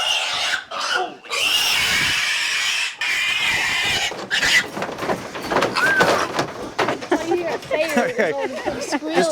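Feeder pigs squealing loudly and steadily as they are hauled on a farm, with clattering and knocking, then shorter rising squeals and grunts, and people talking underneath.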